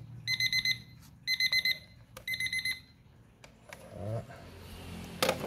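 A Japanese alarm clock rings in three quick bursts of bright, rapid electronic beeping, each about half a second long, followed by handling clicks and a brief low voice.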